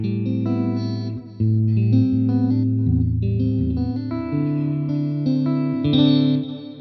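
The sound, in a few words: electric guitar with modulated delay effect, MOOER GE300 Lite processor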